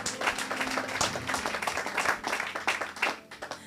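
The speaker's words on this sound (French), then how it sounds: "Acclamez le Seigneur." A church congregation breaks into sustained, dense applause that fills the space evenly throughout, loud and continuous with no pauses.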